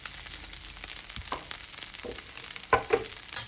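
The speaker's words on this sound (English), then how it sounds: "we're going to go ahead and add our onion and our serrano pepper" Chopped onion and serrano pepper frying in a pan for Mexican-style steak, a quiet steady sizzle with a few soft clinks and stirring knocks near the end.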